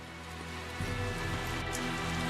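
Steady rain falls in the video game Tales of Zestiria, a dense, continuous wash of drops on surfaces that swells slightly partway through, with no one talking.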